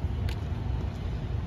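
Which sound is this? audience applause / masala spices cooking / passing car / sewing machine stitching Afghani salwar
passing car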